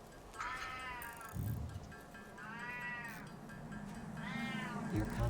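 A cat meows three times in a video game, drawn-out, rising-falling cries spaced about two seconds apart over a soft, low background hum.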